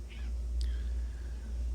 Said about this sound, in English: Okay, cats are playing.